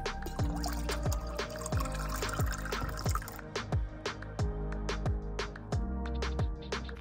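Water pours and splashes steadily for coffee while dripping plinks fall in an irregular rhythm, close by and clear, at a salt lake beach on Antelope Island, Utah.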